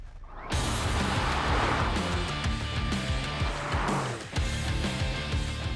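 A Porsche 718 Spyder flat-six sports car drives past loud and close, its engine note rising steadily, dipping for a gear change, then climbing again.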